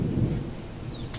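A low rumble of thunder rolls in briefly on a morning storm, a close, steady boom with a faint crackle at the end and no voices.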